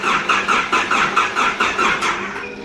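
A Mitsubishi Evo 5 engine cranking for its very first start, a rhythmic starter churn with evenly spaced pulses repeating about every quarter second, loud and close, without catching into a clear idle.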